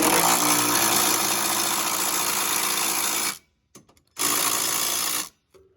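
Loud, close buzzing bursts of an impact wrench tightening bolts while installing a receiver hitch on a 2019 Ford Flex, two long runs with a short sharp pause between them.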